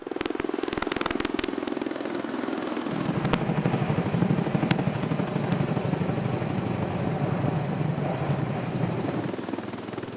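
An MV-22 Osprey tiltrotor aircraft flies nearby with a steady, loud rotor thrum and engine drone, and the pitch and texture shift slightly as it passes, with no voices.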